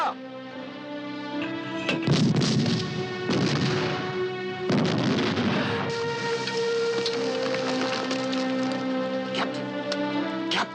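Battlefield artillery at El Alamein: a few heavy booms and blasts, loud and close, set in a dense rumbling roar with orchestral music underneath and a shouted voice near the start.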